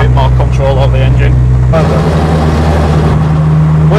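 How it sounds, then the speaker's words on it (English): A 540bhp Vauxhall Chevette sleeper with a noisy gearbox and clutch drones loudly at close range with a steady low mechanical hum that shifts pitch partway through, while someone talks over it. "it's the gearbox and the clutch"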